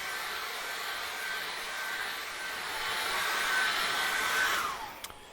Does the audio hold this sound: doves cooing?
no